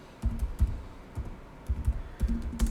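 Keystrokes on a computer keyboard as an SQL INSERT statement is typed, coming in uneven bursts of several clicks with short pauses, close and fairly clear with no talking.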